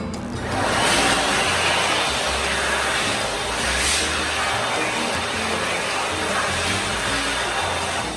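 An electric hand dryer blows hard and steady at close range, a loud continuous rushing roar that holds for the whole stretch with slight swells as hands move under it.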